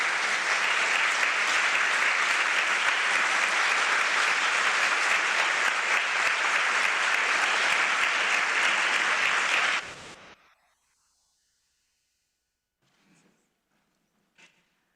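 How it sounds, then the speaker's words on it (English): Conference audience in Tokyo applauds welcoming keynote speaker Ms. Kodama of Nihon Hidankyo, sustained dense clapping for about ten seconds that stops abruptly, followed by near silence and faint small noises. "Let's welcome Ms. Kodama with a round of applause."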